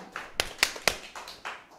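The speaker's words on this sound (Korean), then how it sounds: "박수 치며" A church congregation clapping hands at a Sunday Thanksgiving service, a few sharp, evenly spaced claps followed by softer scattered ones, close and alone without talk.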